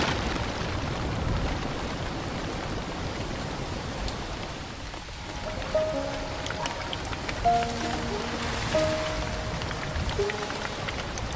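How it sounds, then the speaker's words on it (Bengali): Heavy rain pours on a rainy morning, a dense, continuous hiss of falling water that holds steady throughout, with a few faint tonal sounds surfacing in the background toward the end. "বৃষ্টিটা আরো জোরে ধরেছে।"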